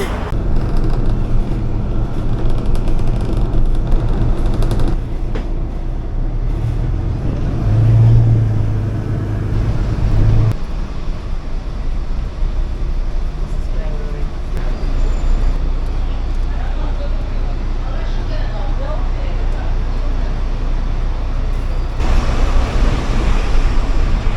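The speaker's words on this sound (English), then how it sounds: "Oh, the bus is there already." City street traffic in Seville in November, with a city bus nearby: a loud, continuous low rumble of engines and passing vehicles over wind noise, steady throughout with no clear breaks.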